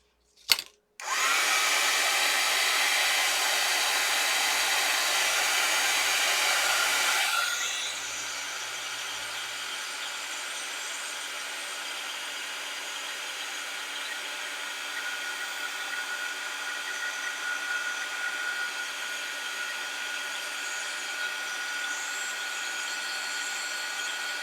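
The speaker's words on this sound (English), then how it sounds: "I'm going to use my heat tool." A handheld heat tool starts with a click and then blows hot air in a steady, loud whooshing hiss over a crafting project on a cutting mat. It softens after about seven seconds but keeps up a continuous rushing drone.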